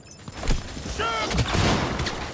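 Rapid gunfire in Cyberpunk 2077, a quick volley of several sharp shots, close and loud, with voices speaking around and between the bursts.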